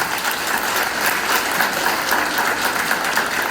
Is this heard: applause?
yes